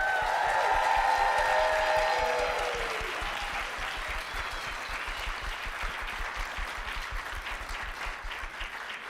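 An audience applauds and cheers for the panelists after a panel discussion on Black horror, a dense wash of clapping that starts loud with voices, then settles into steady applause.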